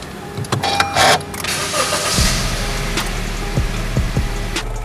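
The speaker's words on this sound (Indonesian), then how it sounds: "Berikutnya kita akan menyalakan mesinnya dulu." A Honda HR-V car engine starts up nearby with a short crank and catch, then settles into a steady low idle.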